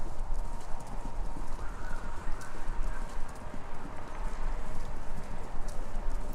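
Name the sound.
horses running, heard on a radio station in Kentucky Route Zero video game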